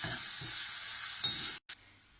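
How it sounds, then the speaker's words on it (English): Garlic cloves sizzle in a hot pan while being stirred for a jackfruit vindaloo curry, a steady close frying hiss with soft scraping, cut by a brief gap near the end. "So let's give that a stir."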